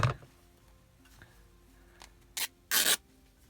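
Paper is trimmed while a journal is being made: a few soft rubbing and snipping sounds, then two short, louder rasping cuts close by near the end.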